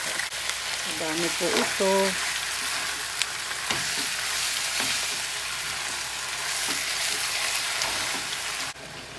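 Pork meat and onions fry in a pan with a steady, moderately loud sizzle and occasional stirring clinks, while a voice speaks briefly over the cooking.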